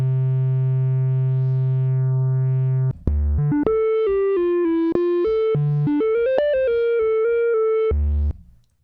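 A synthesizer holds a steady tone, then plays a run of bright notes whose filter sweeps up and down unpredictably, ending on a low held note.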